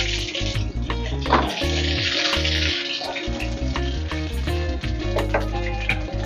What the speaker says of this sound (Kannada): ಒಂದು ಸ್ವಲ್ಪ ಸಾಸಿವೆ ಹಾಕ್ತಾಯಿದ್ದೀನಿ.